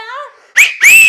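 An editor-added whistle sound effect, two loud bright whistle tones in a row, the second longer and steadier, following a softer wavering tone at the start.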